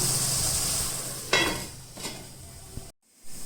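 Watermelon curry cooks in a pan with added water for gravy, a soft hissing bubble under occasional spoon scrapes and stirring clinks, with a brief lid-like clatter and a short silent gap near the end.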